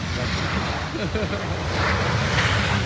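A small propeller airplane, just arrived from Sydney, passes overhead as a steady broadband engine drone that lingers throughout, with someone talking over it.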